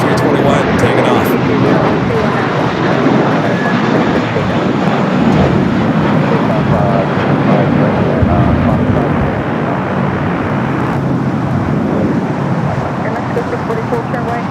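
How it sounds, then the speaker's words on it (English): A Volaris Airbus A321 takes off at LAX with a loud, sustained jet roar that swells and slowly fades, mixed with airport and traffic rumble. "Volaris A321 taking off."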